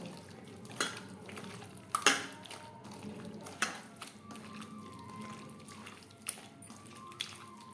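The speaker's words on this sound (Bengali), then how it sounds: "মশলার সমস্ত উপকরণ ও টক দই দিয়ে মাটন বেশ ভালো করে মেখে নেব" Mutton is worked by hand with spices and sour yogurt in a bowl, a quiet wet squelching broken by a few sharp clinks of the bowl or utensils.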